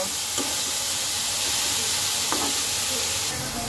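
Steady frying sizzle and hiss from a pan of flat beans and potato being stirred for a mola fish curry, with a couple of soft scraping strokes close by and no talking.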